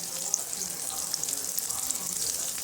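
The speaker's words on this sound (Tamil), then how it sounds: "நல்லா வதக்குங்க. நல்லா பொன்னிறமாக வரணும்." Chillies sizzle in hot oil with mustard seeds, onion and curry leaves, a dense, bright, crackling fry running steadily and close with small pops throughout.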